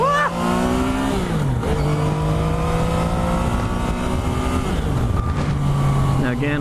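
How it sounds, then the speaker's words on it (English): A 2015 Yamaha FZ-09 motorcycle engine revs up and down through several throttle blips, its pitch rising and falling in strong harmonic sweeps, loud and close with steady wind rush. "There's that throttle response."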